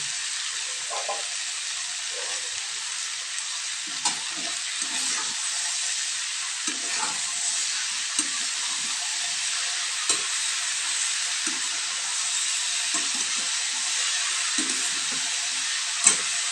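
Masala cooking in a pan with ridge gourd and a fish head for muri ghonto gives off a long, steady frying hiss. Soft, scattered stirring clicks and scrapes sound nearby.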